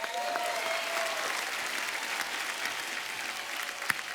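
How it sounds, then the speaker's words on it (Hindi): A television comedy show's studio audience applauds steadily, a dense even wash of clapping throughout with a few louder individual claps near the end. "जोरदार तालियां"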